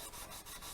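Sandpaper rubs over a plastic model kit of a Star Trek Klingon D7 battle cruiser in quick, soft back-and-forth strokes, faint and close, repeating about four times in under a second.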